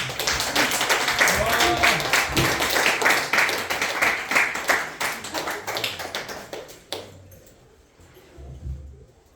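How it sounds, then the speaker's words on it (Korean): Clapping from a church youth group gathering as a department head is welcomed, a dense patter of hands over murmuring voices that thins out and stops partway through, followed by a few quiet clinks. "박수로 부장님을 모시겠습니다"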